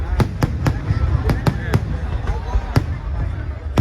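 Fireworks and firecrackers at the Ayodhya Deepotsav festival burst in a rapid string of sharp bangs over a steady crowd murmur, some explosions louder and nearer than others.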